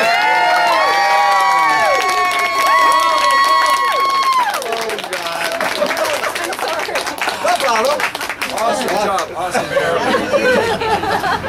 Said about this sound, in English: A round of applause to it.